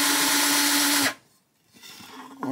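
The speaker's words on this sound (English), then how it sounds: "till we hit the other side and drill through." A power drill whines loudly and steadily, grinding through wood for about a second before cutting off, followed by quiet room noise and a brief whir.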